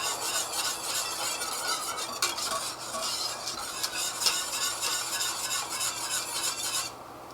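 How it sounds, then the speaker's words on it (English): Sauce at a rolling boil in a pot during a big family bulk-cooking session, giving a steady, dense bubbling hiss that holds for about seven seconds and then drops away sharply near the end. "Okay, so now we got a nice good rolling boil."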